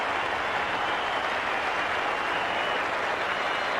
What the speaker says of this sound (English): Applause from his teammates in the Australian dressing room and a standing ovation from certain areas of the crowd.